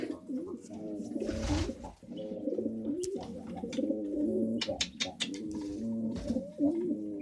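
Pigeons coo throughout in a loft while being fed, their soft warbling calls close and continuous, layered with occasional wing flutters and light knocks.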